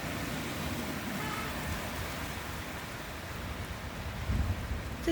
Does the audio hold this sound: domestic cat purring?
no